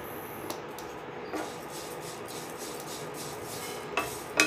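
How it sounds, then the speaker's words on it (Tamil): Ragi (finger millet) being dry-roasted in a hot kadai, a steady gritty scraping and rustling of grains stirred against the metal with a few sharper knocks of the utensil, close and moderately quiet with no talk. "இதில் கொஞ்சம் கொஞ்சமாக போட்டு இதை வறுக்கணும்."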